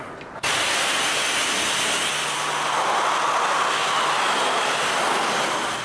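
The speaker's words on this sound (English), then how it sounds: "So now we can just rinse off like we usually would." A loud, steady hiss of a coin-operated car wash pressure washer rinsing a car starts abruptly after a brief pause and keeps going without letup, close to the microphone.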